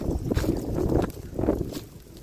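Strong wind gusts across a mung bean farm field buffet the microphone in loud, rumbling waves, rising and falling over a couple of seconds, with no voices.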